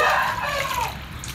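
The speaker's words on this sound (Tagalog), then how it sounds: "linagyan ng maraming tubig para marami ding makainom mga kanukis" Plenty of water is poured into a multivitamin and mineral drink mix, a steady gushing splash and slosh close by that softens toward a lighter trickle.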